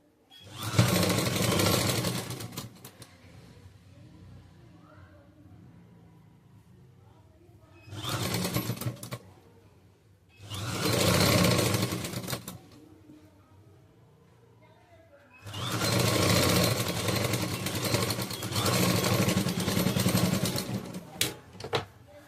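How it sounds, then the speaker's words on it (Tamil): A sewing machine stitches a saree into an umbrella churidar, running in loud whirring bursts of a few seconds each with quiet pauses between them. "அடுத்த ஸ்டிச்சிங் போடுறேன்"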